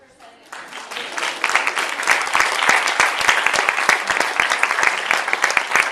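Audience at a Parks Conservancy brown bag meeting breaks into sustained applause after a presentation, dense clapping building quickly and holding steady, with a voice or two mixed in.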